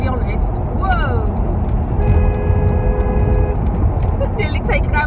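A lorry passes close by a car on the road, bringing a loud rush of road and engine noise along with a brief horn-like tone and squealing.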